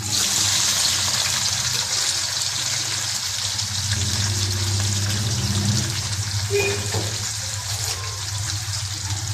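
Chopped onions frying in hot oil in a kadhai for bhuna qorma, a steady loud sizzle and crackle running continuously throughout with a low hum underneath.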